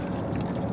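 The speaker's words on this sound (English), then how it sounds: "what we call the spring. This is our water. It flows naturally from the land." Natural spring water flows from the ground in a brief, close, steady gushing splash.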